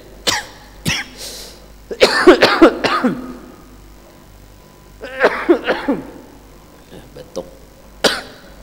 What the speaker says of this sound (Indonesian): batuk kai